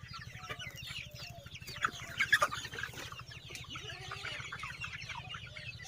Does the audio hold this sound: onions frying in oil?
no